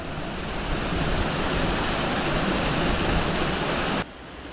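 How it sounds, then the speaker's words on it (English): Waterfall at Mill Gill, a Lake District mountain beck near Legburthwaite, roaring as a steady, dense, close rush of falling water that cuts off abruptly near the end. "and we have another beautiful waterfall there."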